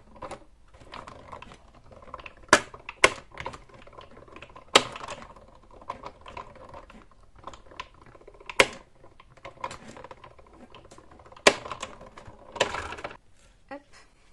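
Scissors cut out the scarf piece of a handmade decorative trivet: crisp, close snips and clicks come in irregular clusters, with a few louder cuts standing out from quiet handling sounds.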